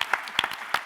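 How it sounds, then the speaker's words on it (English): A short burst of audience applause at a live gadgets program event, sharp claps rising and falling in quick bursts across the room over less than a second. "a round of applause for everyone"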